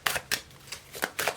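A deck of tarot cards being shuffled gives off several crisp, papery riffles and slaps in an uneven rhythm, close and clear, with no talking.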